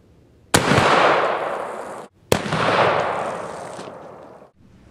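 Two sharp, loud gunshots from a single-shot Harrington & Richardson Handi-Rifle in 45-70 with a 20-inch barrel, each followed by a long rolling echo outdoors, about two seconds apart.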